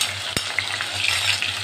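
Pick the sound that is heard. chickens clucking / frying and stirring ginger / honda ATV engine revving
frying and stirring ginger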